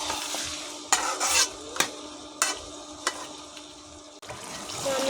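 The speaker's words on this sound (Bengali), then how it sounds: "তো এখন আমি ভালো করে নেড়ে দেবো," Mutton pieces fried in oil and melted fat in a pan for mutton biryani, stirred with a utensil: a steady close sizzle under several sharp scrapes and clinks against the pan, no talk.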